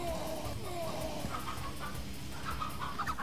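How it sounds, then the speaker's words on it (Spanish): A chicken clucks in the zombie shooter Dead Trigger 2: soft, repeated clucks and short squawks, faint under a steady hiss of game noise, with someone talking over it. "Mira el pollo, mira el pollo"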